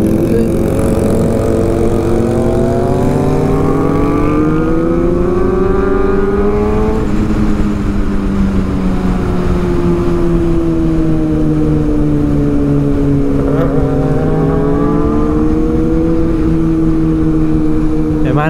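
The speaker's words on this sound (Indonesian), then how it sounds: "Woi, mobil." A car drives past on a busy road, its engine rising and falling loudly as it approaches and moves away, with voices talking over the traffic noise.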